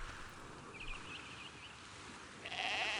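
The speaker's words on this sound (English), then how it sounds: "I have to collect all these sheep." Sheep bleating in the god-sim video game Black and White, a few wavering bleats faint at first and a louder one near the end, over steady ambient game background.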